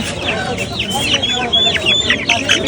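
Chickens cluck and squawk in a busy, noisy bird market, with overlapping bird calls and background chatter throughout.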